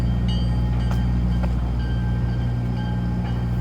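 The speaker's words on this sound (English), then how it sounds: "I just missed the train going by." Train rolling past while walking around downtown Dartmouth, a steady continuous low rumble of rail cars with occasional faint high squeals and clanks, fairly loud and constant throughout with no talking.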